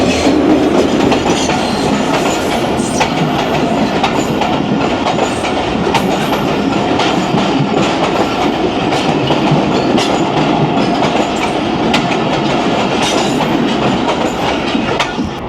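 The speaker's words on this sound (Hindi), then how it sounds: "ड्रिग रोड जंक्शन पर हमें क्रॉस किया 152 डाउन शाह लतीफ़ एक्सप्रेस ने" Shah Latif Express passenger train passing at Drigh Road junction on its run from Mirpur Khas to Karachi, a loud, steady rumble with rolling wheel clatter throughout.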